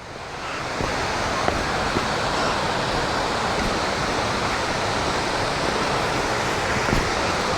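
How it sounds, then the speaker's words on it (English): Sgwd yr Eira waterfall in the Brecon Beacons woodland: a steady, broad rushing roar of falling water, constant throughout with no voices. "there is water down there, I can hear it"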